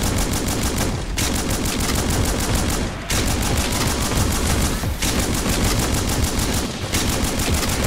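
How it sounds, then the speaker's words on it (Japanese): A shotgun with a hugely boosted fire rate blasts nonstop in the base-defense shooter game Snezhinka, a dense, loud, unbroken roar of shots broken only by a few brief pauses. "とんでもない連射速度になったショットガンで余裕の対処。"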